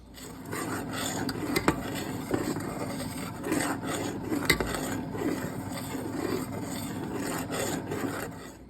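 Browning butter in a pan over medium-high heat being stirred steadily, a continuous scraping rasp of utensil on the pan over a soft foamy sizzle, with occasional clinks.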